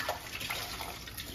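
Pet birds bathing in shallow dishes of water, dunking their heads: a steady close wash of splashing and fluttering water, continuous and fairly loud, with no voices.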